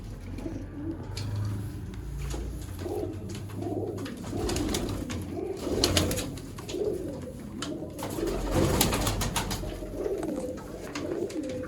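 Sialkoti pigeons cooing in repeated soft, throaty rolls, several birds close by over a low background hum, with occasional wing flutters and light knocks.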